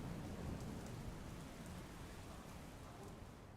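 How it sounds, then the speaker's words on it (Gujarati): Steady rain pours down in Morbi, a dense, continuous hiss of drops striking surfaces with no pauses, fairly loud and close throughout. "મોરબીમાં પણ અલગ અલગ વિસ્તારોમાં સવારથી જ વરસાદ વરસી રહ્યો છે"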